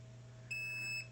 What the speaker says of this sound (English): Beeps, and it's off.